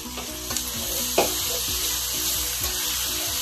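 Bell peppers and onions cooking with pancetta in a pan for a spaghetti pie, giving a loud, steady close sizzle and occasional soft stirring knocks, with no voices.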